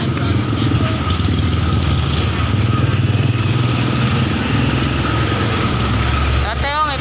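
A motorcycle engine drones steadily close by for several seconds, with people talking underneath and a brief squeal near the end.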